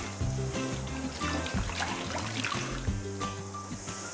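Tap water trickles and splashes steadily while green beans are rinsed, with small gurgles and an irregular patter of drops and clatter in a sink, close and continuous, no voices.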